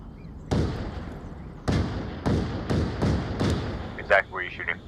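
Gunfire in the video game Kill Switch: six loud, sharp shots spaced roughly half a second to a second apart, each with a short decaying tail, followed by a brief burst of voice near the end.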